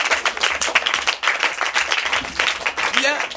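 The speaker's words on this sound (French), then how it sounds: "Est-ce que les amis ont pas applaudi pour Yann Merdi?" A church gathering claps for Yann Merdi with steady, moderately loud applause, and voices talk over the clapping throughout.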